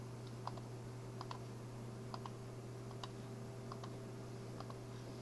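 Faint mouse clicks, about eight of them in paired taps spaced across a few seconds, placing points while drafting in AutoCAD, over a steady low electrical hum with no voices.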